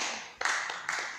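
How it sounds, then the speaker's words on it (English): Church congregation clapping in a brief, fairly quiet burst of a few sharp, uneven handclaps during a Sunday service. "Clap for Jesus for that one."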